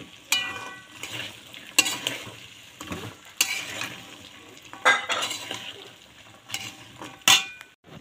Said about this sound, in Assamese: এতিয়া মই ধুনীয়াকৈ লাৰি দিম